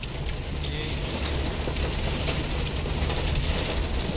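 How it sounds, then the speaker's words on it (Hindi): Hail pelting down in Mussoorie, a dense steady patter and clatter of stones hitting surfaces, loud and continuous with no voices. "ओले पड़ रहे हैं मसूरी में"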